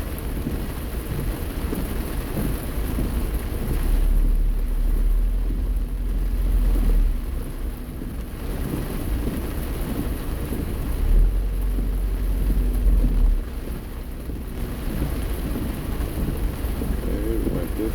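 Rain drums steadily on a moving car with a low road rumble and deep rolling swells like distant thunder, continuous and fairly loud throughout, without speech.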